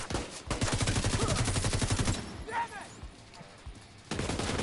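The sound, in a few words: gunfire shooting tanks, from video game The Division 2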